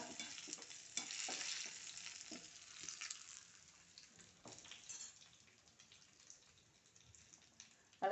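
A tempering of curry leaves and chili powder crackles in hot oil and is stirred for a Kerala okra moru curry. Faint sizzling and spoon scrapes come in bursts, louder at first, then softer.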